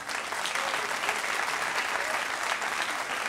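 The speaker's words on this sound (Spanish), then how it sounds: "este aplauso es para las autoridades" An audience applauds at an orchestra concert, with dense, steady clapping that holds an even loudness from start to finish.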